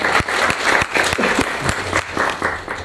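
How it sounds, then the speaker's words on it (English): An audience at a keynote talk applauds, with dense, steady clapping sustained for a few seconds and sharper individual claps standing out near the listener. "round of applause"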